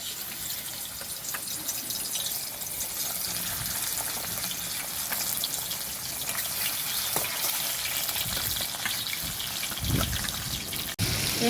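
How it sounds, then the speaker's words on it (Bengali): Katla fish frying in hot mustard oil in a kadai, a continuous dense close sizzle with crackling spatter that holds steady throughout, with no talk over it. "এখন আমি মাছগুলোকে একটা একটা করে ভেজে নেব।"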